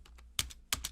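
Fingers typing JavaScript code on a computer keyboard, a close, crisp burst of several quick keystrokes, with two sharper clacks standing out.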